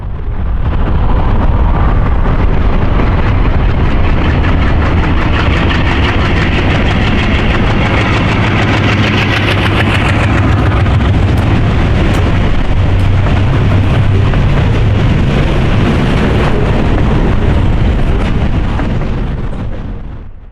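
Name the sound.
ALCO diesel locomotives under heavy throttle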